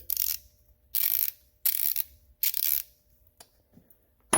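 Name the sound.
clicking of a 90 tooth ratchet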